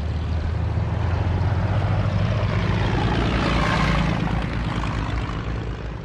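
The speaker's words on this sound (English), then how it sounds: "French aircraft joined the battle." A French military propeller aircraft drones loudly overhead, its engine roar swelling to a peak about two-thirds through as it passes, then easing slightly, with no voices over it.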